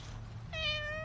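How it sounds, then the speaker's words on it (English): A kitten or cat gives a single short, high, rising meow close by over a low steady background hum, with no talking. "Oh, look at this kitty cat."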